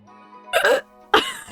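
Two abrupt vocal bursts sound like a hiccup-like burp attempted in rhythm from a Tomodachi Life 3DS character, heard close and loud over a faint tonal background.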